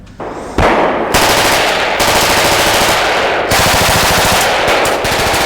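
Swedish special forces firing machine guns outdoors, loud sustained automatic bursts with short pauses between them, close and dominant, with no talk.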